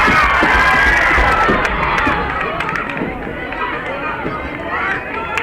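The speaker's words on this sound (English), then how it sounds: "Holland crowd decides to wake up because NAC's been out shouting them, making more noise." Crowd at a high school girls soccer championship match cheering and shouting, a dense roar of many voices with running sounds, loud and continuous throughout.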